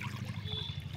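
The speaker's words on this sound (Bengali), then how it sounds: "কড়াইটা বসিয়ে দিয়েছিলাম, তাই গরম হয়ে গেছে, জল দিয়ে দেব" Water poured into a heated kadai (wok) in a village kitchen while preparing potatoes gives a brief, steady trickling splash over a low background hum, with no talking.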